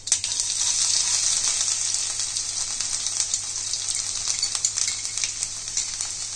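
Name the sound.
chopped garlic and green chilies sautéing in a pan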